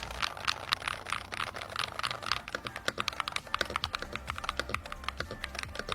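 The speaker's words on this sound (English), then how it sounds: "Hall effect gaming keyboards don't sound that great, but this one is actually not that bad" Rapid keystrokes clatter on a Hall effect gaming keyboard in an uneven, steady rhythm, close and fairly quiet, with no voices.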